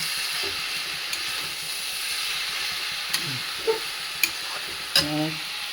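Banana flower and prawns sizzle quietly in a frying pan, with a steady hiss and a few sharp clinks and scrapes of stirring toward the end.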